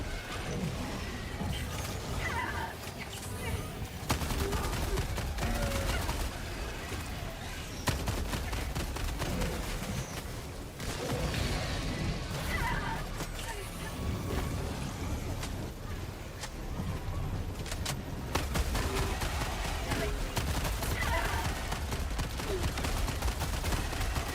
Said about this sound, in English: my turrets are doing the work right now